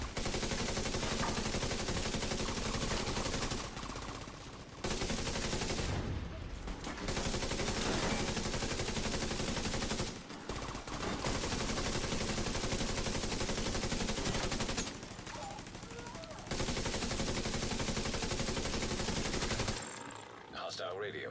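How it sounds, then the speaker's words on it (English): Sustained pistol gunfire in The Division 2, with dense firing bursts filling long stretches broken by brief pauses, loud and close, with game sound and a voice occasionally over it. "Once again, firing with a pistol."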